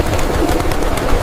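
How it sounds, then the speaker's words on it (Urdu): Flocks of pigeons coo and flutter at the shrine of Khwaja Gharib Nawaz, a dense, continuous murmur of soft, overlapping calls with no talking. "کتنے سارے کبوتر ہیں۔"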